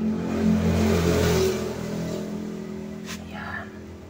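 An electric fan motor with a replaced neck runs with a low steady hum and whir, louder at first and then settling, with a brief click near the end.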